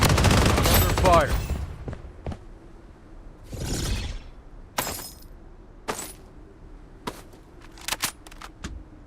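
Video game gunfire with the player under attack: a dense burst of rapid shots up front, then scattered sharp single cracks and whooshes spread out over several seconds, fairly close.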